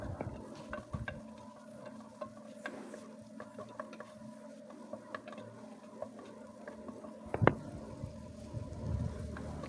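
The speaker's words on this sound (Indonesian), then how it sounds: "Ditumis sampai wangi, masukkan wortelnya." Garlic, shallots and carrots sautéing in margarine in a pan, a faint steady sizzle with scattered light ticks and spatula scrapes, one sharper clink near the end, no talking.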